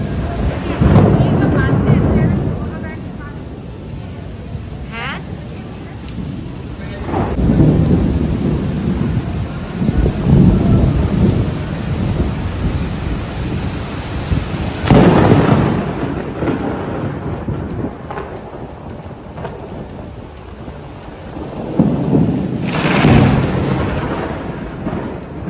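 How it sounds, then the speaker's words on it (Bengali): Loud thunder from a storm crashes and rolls in several heavy bursts, with a steady wash of rain and wind between the claps and no voices. "কি জোরে জোরে বাজ পড়ছে, মানে রীতিমতো ভয় লাগছে"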